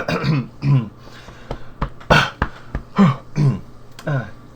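A man clears his throat repeatedly as he approaches a table, a run of rough guttural hacks and harrumphs performed by a voice actor in a tabletop role-playing game story, close and distinct.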